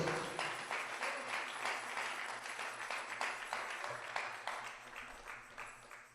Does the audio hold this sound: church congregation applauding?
yes